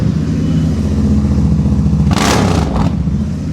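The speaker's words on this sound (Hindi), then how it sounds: "लग रही है ना हार्ले स्टार्ट हुई है" A second-hand superbike with a very loud exhaust idles with a deep, steady rumble close by on an Indian street, then gives one sharp, brief rev near the end.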